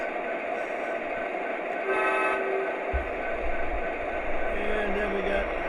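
MTH Rail King model diesel locomotive lash-up running on track with a steady electric hum and rolling rumble, broken by a short horn blast and a later low horn tone, while people talk.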